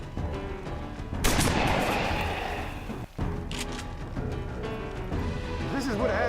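Shotgun blasts in XCOM 2, a sustained burst of loud firing and booms that breaks off briefly midway and then resumes, with voices talking over the combat.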